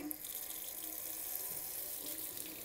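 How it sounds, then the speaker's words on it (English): Tap water runs steadily into a kitchen sink as lukewarm water is readied for boiling eggs, a continuous close hiss with no voices. "I make sure that the water's on"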